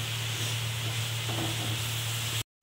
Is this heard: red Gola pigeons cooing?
no